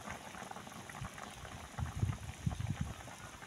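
Chicken adobo, a full kilo, bubbling in a pot on the stove, soft low simmer that swells into a few louder burbling pops toward the end, close and quiet with no voices.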